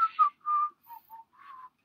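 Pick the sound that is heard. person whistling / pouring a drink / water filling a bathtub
person whistling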